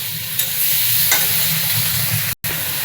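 Spices sizzle in hot oil while being stirred in a pan: turmeric, cumin powder and ginger cooking down with tomatoes for a Bengali tilapia fish curry. A steady, close hiss runs throughout, with occasional scraping strokes and a brief break near the end.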